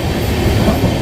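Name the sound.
moving passenger train from Bhuj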